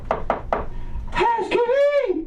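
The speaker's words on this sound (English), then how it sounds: "they bang on the door, and they keep banging on the door" Three loud, sharp knocks on a hotel room door in quick succession at a comedy show, followed by a voice stretching out a long call.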